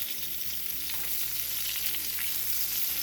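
Veggie steaks fry in buttered coconut oil in a pan, producing a dense, continuous, loud sizzle heard close up with no talking.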